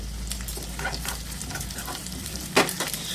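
Pumpkin seeds and nuts roast in a pan for payasam, giving a light sizzle with irregular scraping and rattling of the stirred pieces, close and fairly quiet.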